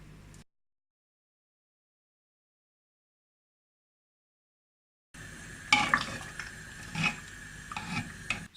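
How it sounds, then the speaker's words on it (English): Spiced potatoes with coriander powder and amchur being mashed in a pan for aloo curry, heard after a long silence as soft scraping and squishing strokes with a few louder knocks against the metal. "We mash these potatoes so that the curry becomes a bit thick"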